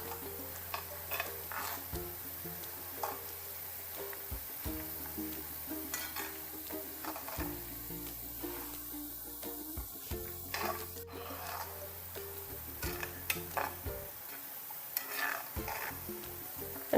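Neelamari (indigo) leaves frying in a pan of home-made herbal hair oil, giving a steady low sizzle broken by repeated scraping strokes of a stirring spoon, close up with no talking.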